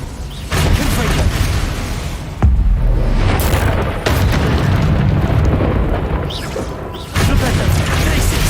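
Repeated Confringo fire spell blasts from Hogwarts Legacy: several loud, booming explosions burst in sequence, each followed by a crackling rumble that tails off before the next hit.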